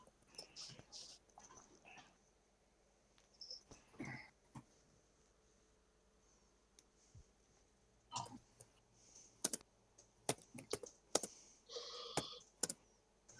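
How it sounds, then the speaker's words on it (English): Hard, forceful typing on a computer keyboard comes in scattered bursts of sharp clicks, heaviest toward the end, with quiet gaps between and some faint voices in the background. "Very angry typing, Jess."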